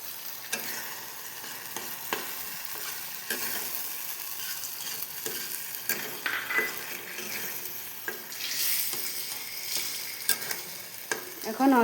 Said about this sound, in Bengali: এখন আমরা এটার উপরে অল্প দই ঢেলে দেব।